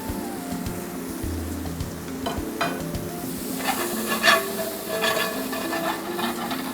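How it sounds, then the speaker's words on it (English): Partially cooked shrimp put back into a hot pan sizzle and fry steadily while being stirred, with scraping and clinking of utensil against the pan, close and continuous without talk. "we're going to take our partially cooked shrimp and put it back in the pan"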